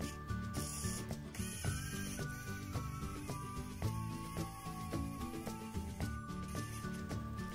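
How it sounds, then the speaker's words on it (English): A Lego Mindstorms brick printer mechanism picking bricks from a brick store and placing them, a continuous run of whirring motors, ratcheting gears and clicks, close and fairly quiet. "the printer will place the brick based on the letter that user requested, and it will take the brick from the brick warehouse."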